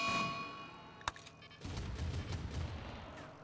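Defensive turrets in RimWorld open fire on a herd of manhunting muffalo, a single sharp shot followed by a sustained rattling burst of rapid gunfire, moderately loud and steady, with no talking.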